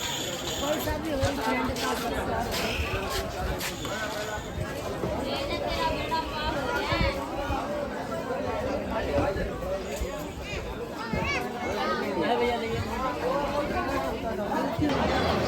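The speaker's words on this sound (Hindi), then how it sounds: "ये यहाँ का मार्केट।" Busy street market crowd chatter in Khatushyam, India, a dense continuous babble of many voices near and far with scattered louder calls, though no clear sound of children at play stands out.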